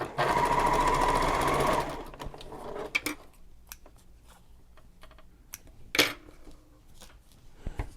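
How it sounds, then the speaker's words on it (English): A sewing machine runs steadily and loudly for about two seconds, stitching a final quilted line through foam on the underside of a bag strap, then falls quiet, leaving scattered small clicks and handling taps. "And one last quilted line."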